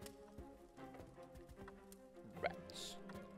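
Rats in the horror game Lucius scurry with quick light patters and faint squeaks, a scattered run of small taps and chirps over a low ambient hum, soft and fairly close.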